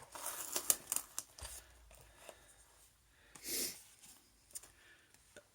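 A package being cut open with scissors in a quiet room: a few short, sharp snipping and tearing bursts separated by near silence, with faint breathing and handling noises between cuts.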